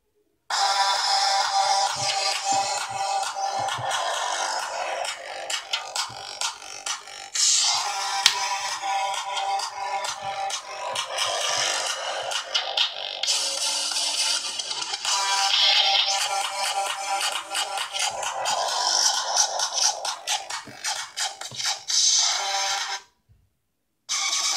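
Music plays through a budget Gretel S55 portable speaker, a busy, rhythmic track heard alone at moderate volume that cuts out briefly near the end before resuming.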